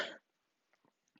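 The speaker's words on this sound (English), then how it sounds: "Excuse me, I have to cough." A single loud, close cough from a teacher during a math review lecture, a short harsh burst followed by near silence and a few faint shuffling noises.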